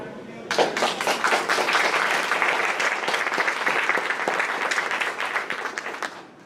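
Applause from an audience at a news conference starts abruptly and holds as a dense, steady clapping for several seconds before tapering off near the end.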